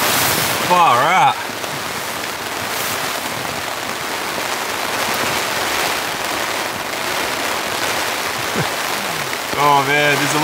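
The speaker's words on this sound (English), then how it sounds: "Oh man, there's a lot of water coming down." Heavy rain falling on camping tarps during a rainstorm with strong winds, a loud, continuous hiss of drumming water close by, with brief voices at the start and the end.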